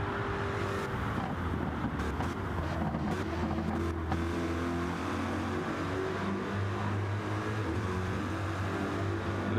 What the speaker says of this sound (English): Listen to that car, man.